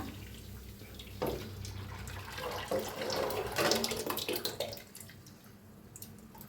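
Water pours in a splashing stream into flour batter for papad for a few seconds, rising and then tapering off into quieter surroundings.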